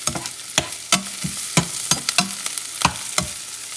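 Tomato paste fries in a pan while a utensil stirs it, producing repeated sharp scrapes and taps over a continuous close sizzle, with no voices.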